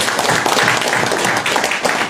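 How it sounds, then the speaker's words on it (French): An audience at a ceremony for fire-safety personnel bursts into applause, a dense, continuous wash of many hands clapping loudly throughout. "je vous demande d'applaudir très fort"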